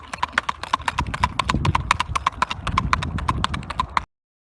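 Hooves of a gaited horse ridden without shoes strike the ground in a fast, even rhythmic clip-clop, close and crisp over a low rumble of movement.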